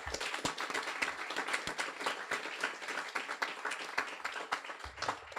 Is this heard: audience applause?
yes